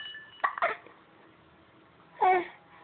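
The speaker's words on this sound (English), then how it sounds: "Are you pissed off at the hiccups?" A child hiccups: a short cluster of sharp little vocal hiccup bursts near the start, then one more a couple of seconds later, close and fairly loud against near silence.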